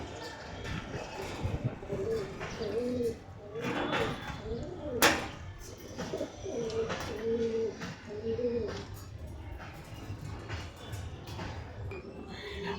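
Pigeons coo softly in a loft cage, repeated low burbling calls amid rustling, wing flaps and a sharp clatter, with a person talking in the background.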